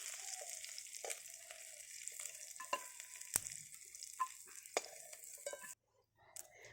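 Prawns fry in hot oil with a soft, steady sizzle broken by occasional sharp clinks of stirring, then the hiss drops away near the end.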